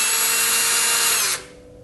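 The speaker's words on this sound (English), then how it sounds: "then you're going to drill it all the way through" A power drill bores a 3/16-inch hole all the way through pack frame tubing, a loud steady whine close by that stops abruptly near the end, leaving a quiet tail.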